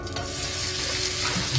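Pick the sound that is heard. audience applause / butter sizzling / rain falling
butter sizzling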